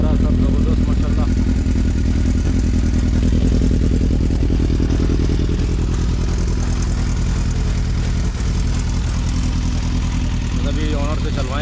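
A repaired Yamaha R6 sport motorcycle runs nearby with a steady, rough mid-pitched engine note throughout, with voices audible over it.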